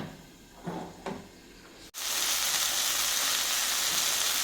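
Garlic chicken with chopped tomatoes cooking in a pan, a few soft stirring clatters, then a steady, loud hiss of simmering and sizzling from about halfway through.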